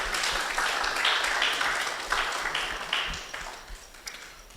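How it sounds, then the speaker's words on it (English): A seated audience at a Ghana report launch and dialogue on catalytic capital investment claps in a fairly quiet, steady round of applause that gradually thins out over a few seconds. "Please, another round of applause for her."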